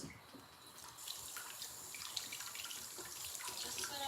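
Tap water rinsing shiso leaves at a kitchen sink, a steady close hiss of running water with light splashing throughout.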